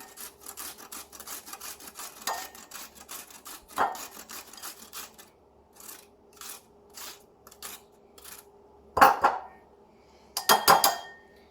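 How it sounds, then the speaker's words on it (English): Rhythmic rasping strokes of cucumber rubbed up and down a metal grater, steady close scraping that pauses briefly, ending with a few louder clattering knocks of the grater. "you just go up and down, and that will grate all the cucumber"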